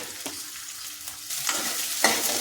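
Onions sauté in hot oil in a pan for radish sambar, a steady sizzle broken by a few scraping stirs, close and moderately loud with no talk.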